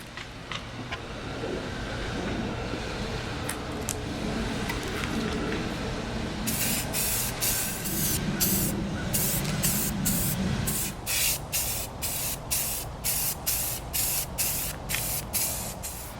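Rust-Oleum rusty metal primer sprayed from an aerosol can onto the underside of a model train structure, a steady hiss that later breaks into a run of short, regular bursts, close and loud with no talking.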